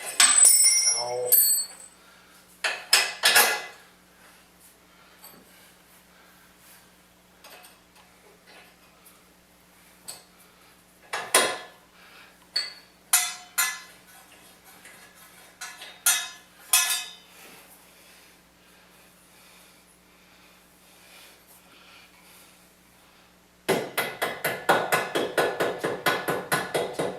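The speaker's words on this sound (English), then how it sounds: "Put some gentle taps with a rubber mallet's fine." A rubber mallet delivers gentle taps to a CV axle on a 2008 Ford Escape, heard as scattered single knocks and small metallic clinks spread across a quiet garage, ending in a longer burst of rapid rattling.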